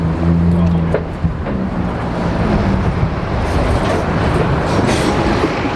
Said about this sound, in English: Well, there's a lot of traffic.